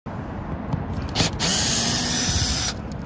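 Power drill whirring in bursts as it backs screws out of an RV roof vent during a replacement, loud and close with short pauses before a longer steady run.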